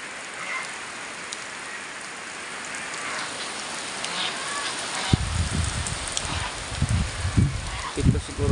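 Heavy, wind-driven rain pouring near a rice field during a low-pressure storm, a constant broad hiss that grows more gusty and uneven halfway through, with low rumbling buffets joining in.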